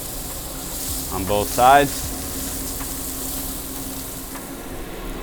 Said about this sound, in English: We'll put our hand on it just so it gets that nice initial sear.